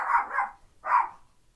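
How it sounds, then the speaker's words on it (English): Dogs bark loudly and close by: two quick barks, a short pause, then a third, with no talk over them. "dogs barking really loud in my video"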